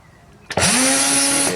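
Bosch GBH 24 VFR cordless drill, repaired and reassembled, starts after a short click and runs steadily at full speed with a loud, continuous motor whine, close up and alone, for over a second.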